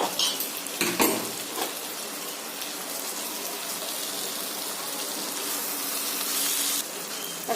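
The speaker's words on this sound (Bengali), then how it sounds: "ভালো করে এটা নাড়বো, ভাজা ভাজা করি" Shrimp and taro stolons stirring and frying in a pan, a continuous sizzle with a few sharp utensil scrapes near the start and brief louder hissing bursts, close and steady, no voices.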